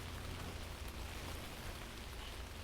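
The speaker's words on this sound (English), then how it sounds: "It's coming back, the rain." Steady rain falls in a dense, even wash with no talk, continuous and fairly loud throughout.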